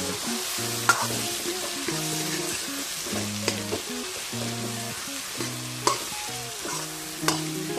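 Duck meat with cumin powder sizzles steadily in a pan while it is stirred, with occasional scraping clicks. Soft background music plays underneath.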